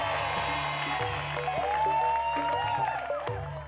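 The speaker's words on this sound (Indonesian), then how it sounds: "kita beri tepuk tangan yang meriah untuk teman-teman pemusik kita" Crowd applause and cheering for the musicians at a live comedy theater show, a dense wash of clapping and a few whoops heard under tonal music from the stage.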